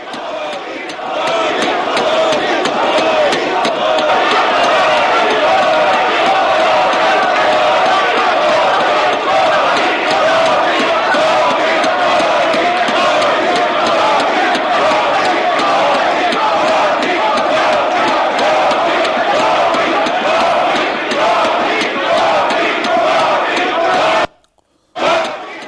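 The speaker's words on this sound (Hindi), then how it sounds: "मोदी मोदी के नारों से पूरा सदन गूंज रहा था।" BJP members of India's parliament chant Modi slogans and thump their desks in support of the Prime Minister's speech, a loud, dense, unbroken crowd roar that drops out briefly near the end before resuming.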